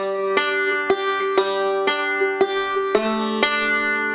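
Bluegrass banjo playing a forward roll very slowly, plucked notes ringing bright and evenly spaced in a steady rhythm, close and clear with no voices.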